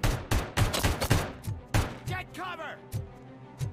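Gunfire in Robocop: Rogue City rings out as a rapid run of loud, close shots with short gaps between them, followed by a pause and a couple more scattered shots, with a voice speaking briefly in between.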